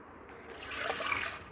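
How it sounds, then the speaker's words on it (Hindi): A glass of water is poured onto soaked, drained lentils for dal pulao, a steady soft trickle that builds after a brief pause, close and fairly quiet with no talk. "अब हम इसमें एक गिलास पानी डालेंगे"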